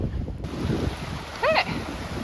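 A full brook on Dartmoor rushes steadily in a broad, close wash of water noise mixed with wind buffeting, and a short bird chirp rises briefly near the middle.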